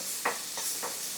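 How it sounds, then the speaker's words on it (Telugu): Onion frying in a pan, with a faint steady sizzle and three short scraping strokes of a spatula, close and quiet. "ముందు ఉల్లిపాయ కొంచెం పచ్చివాసన పోయే వరకు వేయించుకోవాలి"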